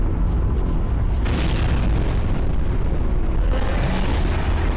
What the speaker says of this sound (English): Oh, a rocket launcher? It's like a sniper rocket launcher.